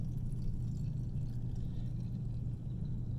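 Water poured through a funnel into a glass burette on a lab bench, a steady low rushing trickle that continues evenly throughout with no talking.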